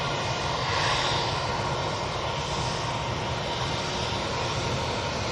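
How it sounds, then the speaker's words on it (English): An EasyJet airliner at Manchester Airport produces a dense, loud jet-engine roar, swelling briefly near the start and then holding steady without any voices. "So a couple of noises coming from that EasyJet there."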